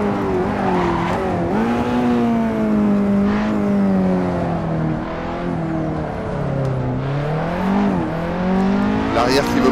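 KTM X-Bow race car with a 300-horsepower Audi S3 engine lapping a circuit, the motor loud and close, its pitch rising and dipping through gear shifts and corners, with wind and road noise throughout.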